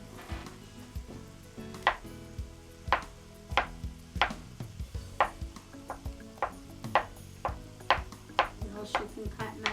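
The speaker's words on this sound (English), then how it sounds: "You can cut mushrooms like this." A knife chops mushrooms on a board in quick, regular strokes, each a crisp close tap repeating roughly every half second over a faint kitchen background hiss; no voices.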